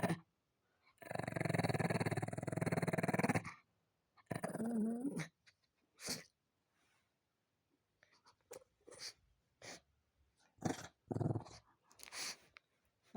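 A pet dog growls playfully while playing with toys, a long low rumbling growl followed by several shorter grunts and growly bursts separated by pauses, close and fairly quiet.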